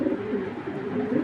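Racer pigeons coo close by, a steady low rolling drone of overlapping calls from a crowded pen.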